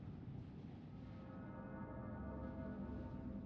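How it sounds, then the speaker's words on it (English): A tolling bell in the Persona 3 Reload video game rings out with steady sustained tones over a low, dense ambient rumble, heard alone with no talking throughout. "It sounds like a bell, but where's it coming from?"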